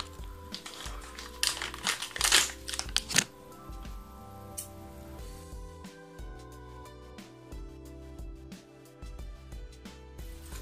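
Scissors snipping through hair during a do-it-yourself straight haircut at home, a quick burst of crisp close cuts and rustling near the start, then quieter handling over a low background.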